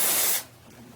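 Steam wand on an Expobar Brewtus IV espresso machine hisses loudly and steadily up close, then cuts off abruptly partway through, leaving a quiet background.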